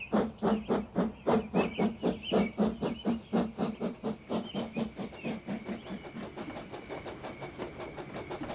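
A steam locomotive puffs in a loud, regular chuffing rhythm that gradually fades and slows, while a high steady hiss continues alone toward the end.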